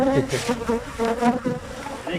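Honeybees buzzing around an open beehive during hive maintenance, with two syrup feeders set in, a steady droning hum of many wings, close and continuous throughout.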